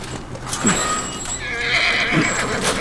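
A horse in The Last of Us Remastered whinnies twice, close and loud, with brief hoof clops and faint ambient game sound around it.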